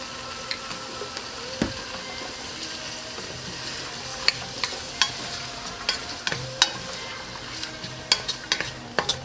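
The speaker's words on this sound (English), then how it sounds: "our potato and leek here. It's getting sauteed, almost ready." Potato and leek sauteing in olive oil with garlic, a soft continuous sizzle close by, broken by scattered clicks and scrapes of a utensil stirring the pan.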